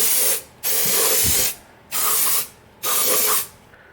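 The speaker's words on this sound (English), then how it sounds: "So I'm gonna spray the sides." Mold release wax with a furniture-polish smell is sprayed from an aerosol can onto the sides of a casting mold in three sharp, close hissing bursts separated by brief pauses.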